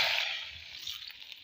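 Cooking oil sizzling in a pan, a bright hiss that starts strong and slowly eases over a second and a half, alone and close.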